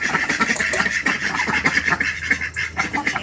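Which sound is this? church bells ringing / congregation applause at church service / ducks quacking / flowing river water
ducks quacking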